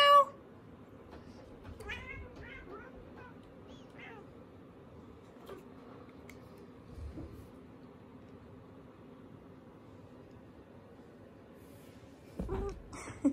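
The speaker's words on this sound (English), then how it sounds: "She meow for a smell." A cat meows in a quiet room, a few short high-pitched meows near the start and a louder one at the very end, separated by long near-silent stretches with faint low bumps.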